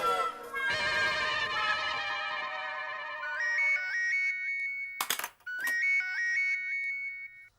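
A phone rings with a loud electronic melodic ringtone, sustained tones at first then a repeating chirpy warbling pattern, briefly broken by a clatter before the tune resumes, heard alone.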